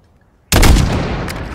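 A single loud sniper rifle shot in the Call of Duty Modern Warfare video game, a sudden boom after near silence followed by a long rumbling echo.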